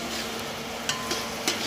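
Onions sizzle in hot cooking oil in a pot over a raised flame, a steady close crackle with a few sharp stirring clinks near the end.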